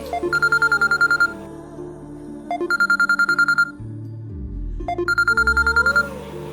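A phone ringtone plays in three repeated bursts of rapid electronic trills, each followed by a short pause, loud and close.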